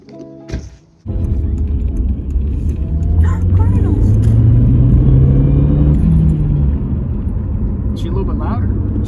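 A Volkswagen Passat engine with an aftermarket air filter fitted starts up after a brief clunk, then runs with a steady loud rumble that rises as it revs, heard close up.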